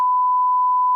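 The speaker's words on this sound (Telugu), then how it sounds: "క్యాటరింగ్ వాళ్ళు అందరం కలిసి కూర్చొని ఫోన్ చేస్తున్నాం" Phone call tone during a haldi celebration: a single steady electronic beep, pure and loud, holding evenly for about a second alone.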